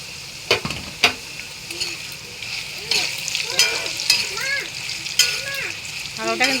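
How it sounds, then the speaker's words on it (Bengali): Potatoes fry in hot oil in a home kitchen, giving a steady crackling sizzle with sharper spattering pops and a few brief voice-like sounds over it. "আলুটা কিন্তু ভাজা হয়ে গিয়েছে"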